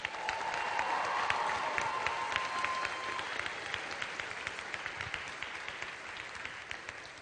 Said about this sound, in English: Can we give the class of 2015 another round of applause?